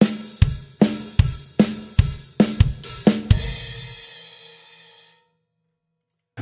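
A rock drum fill setting up the outro groove of a song: about eight loud, evenly spaced hits building in quick succession, closing on a crash that rings out and fades over several seconds.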